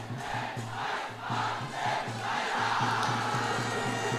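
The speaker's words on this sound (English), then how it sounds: "Big Zahira cheer coming in." Supporters roar for Zahira College at an under-19 schools' football final against St. Peter's College in Sri Lanka, a loud, continuous crowd cheer swelling in waves across the stadium.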